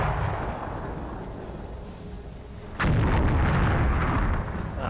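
Tank cannon fire in a tank video game: a sudden loud boom breaks through a steady low engine rumble, followed by a brief ringing tail.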